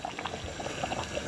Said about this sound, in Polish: A mi tutaj bulgocze.